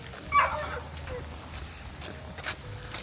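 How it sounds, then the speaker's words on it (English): A dog gives a single short yip or bark near the start on a street, followed by faint whimpering amid quiet outdoor background, with some low voice murmur. "Can I take a photo of your dog?"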